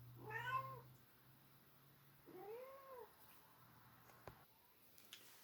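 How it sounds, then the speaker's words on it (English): A house cat meows in two clear, drawn-out calls, the first louder and more insistent, the second softer, at close range indoors with a low steady hum beneath and a couple of faint clicks afterward. "let me go let my cat out again."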